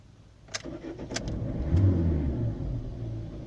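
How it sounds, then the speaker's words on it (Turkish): A 2005 petrol car is cranked with the accelerator pressed fully to the floor, giving a few short starter clicks and then the engine catching into a loud, close, rising rumble that settles into a steady idle. "Gaza sonuna kadar basıyoruz tekrar bir marş yapıyoruz bakalım"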